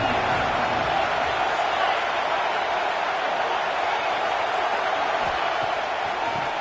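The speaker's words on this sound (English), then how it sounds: "Third down and the crowd really getting into it." A football stadium crowd roars on third down at the Louisville at Penn State college football playoff semifinal, a steady, dense wall of cheering noise that holds at the same loudness throughout, distant and diffuse.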